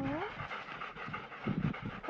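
A dog panting rhythmically on a boat on a hot day near Staniel Cay in the Bahamas, the quick breaths steady and close, with voices and a low background hum.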